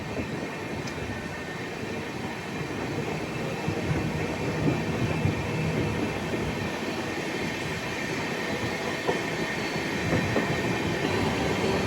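An SMVT Bengaluru express train rumbles past at close range on its way to Renigunta near Tiruchanoor station, a steady, loud roar of wagons and wheels with faint clatter sustained throughout, no talking.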